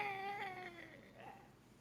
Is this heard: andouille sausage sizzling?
no